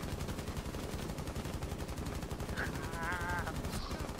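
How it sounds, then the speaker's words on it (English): Rapid bursts of gunfire from the video game Rainbow Six Siege in Terrorist Hunt mode, with shots fired through a wall; dense, continuous automatic fire fills the whole stretch at close range with a brief high electronic whine near the end. "Oh, he's shooting through the wall."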